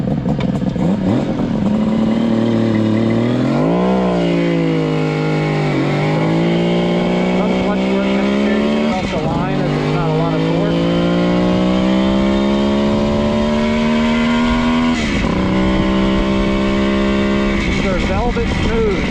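A Kawasaki H1 three-cylinder two-stroke motorcycle is ridden and revved, a loud close buzzing engine note that climbs repeatedly through gear changes with brief dips between pulls, continuous throughout.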